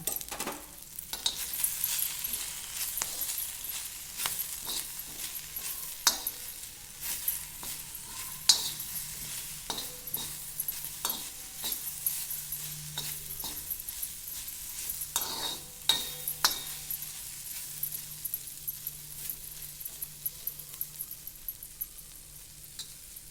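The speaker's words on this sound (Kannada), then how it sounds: "ಇವಾಗ ಎಣ್ಣೆ ಹಾಕಿ ಮತ್ತೆ ಹುರಿಬೇಕು" Okra fries in oil in a pan, giving a steady soft sizzle broken by frequent sharp clinks and scrapes of a utensil stirring against the metal, close and continuous.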